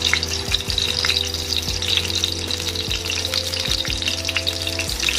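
Garlic sizzling in hot oil in a pan, a steady crackling fry with small pops and occasional scrapes of a utensil, close and continuous with no talking.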